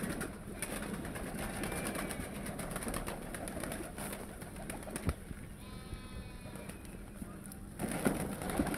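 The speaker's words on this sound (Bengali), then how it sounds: "আজকে সকালবেলা কবুতর ছাড়তেছি, কবুতর ছাড়ার দৃশ্য এটা।" Pigeons at a morning release on a loft farm, soft repeated cooing from several birds up close, with rustling, flutters and light knocks around them.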